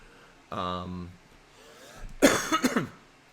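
A voice speaks briefly, then after a quiet pause comes a close, loud cough in a few rough bursts.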